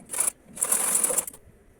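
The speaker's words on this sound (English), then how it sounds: "Now we are going to stitch the neck area." A sewing machine stitches the neckline of a Nigerian Igbo blouse in two quick bursts, a short run and then a longer one, close and fairly loud before stopping.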